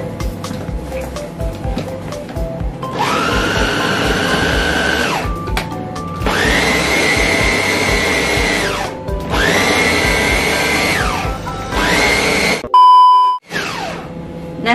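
An electric chopper working seblak spice paste in bursts of a few seconds each, its high motor whine starting and stopping with short pauses between, ending with beeps and a clunk.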